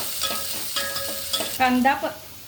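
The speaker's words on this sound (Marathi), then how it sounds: "तेल तापल्यावर एक बारीक चिरलेला कांदा थोडा परतून घेऊया।" Finely chopped onion sautéing in a tablespoon of hot oil in a pot, a steady close sizzle broken by rhythmic stirring scrapes and a louder burst of frying toward the end.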